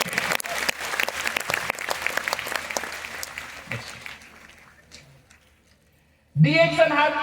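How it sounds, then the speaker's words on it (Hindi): An audience applauds at a Freedom Day 2024 event, with loud dense clapping that gradually thins and fades to near silence before a voice starts speaking at the end. "डीएक्सन के लिए जरूर एक बहुत बड़ा हाथ ताली हो जाए फॉर दिस वंडरफुल इंस्पिरेशन"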